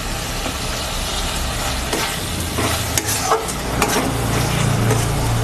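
Tomato and half a spoon of salt frying with spices in a pan for a Bengali chanda fish curry, a steady close sizzle with occasional scraping stirs, no talking.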